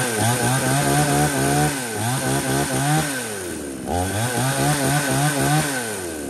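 A used Japanese 52cc chainsaw engine runs close up, loud and continuous, revving up and down in repeated surges with a raspy two-stroke buzz and no talking.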